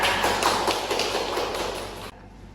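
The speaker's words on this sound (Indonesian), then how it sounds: "Beri tepuk tangan untuk Nohida ya" Students in a high school classroom break into brief applause for a classmate, a thick flurry of clapping that holds for about two seconds and then stops abruptly, leaving quiet room tone.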